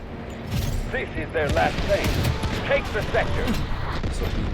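Gunfire from the Delta Force video game, a cluster of sharp, loud reports with rumbling blasts underneath, mixed in with ongoing talk from players.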